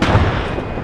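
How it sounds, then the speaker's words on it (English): Artillery fire in the Arma 3 military game, a single heavy low boom that rolls out and rumbles steadily across the whole brief moment, loud and close. "That was artillery."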